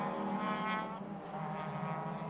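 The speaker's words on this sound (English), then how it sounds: "That car's still running, thankfully." Ford Fiesta race car engine running at Rockingham during a BRSCC championship race, with a steady, droning high-revving engine tone, sustained and fairly loud, with no talk.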